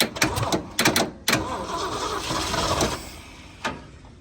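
A 1970 Ford Bronco, sitting unstarted for eight years, cranks in short choppy bursts, then catches and settles into a steady rough idle that fades slightly.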